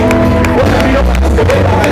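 Church congregation cheering and applauding, a loud close crowd of claps and shouts with musical tones mixed in, over about two seconds.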